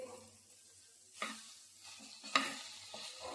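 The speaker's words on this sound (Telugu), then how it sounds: "జిగటగా లేకోకుండా లైట్గా ఫ్రై అయిపోయింది" Okra frying in a pan, with a soft steady sizzle broken by two or three sharper scraping stirs of a spoon against the pan.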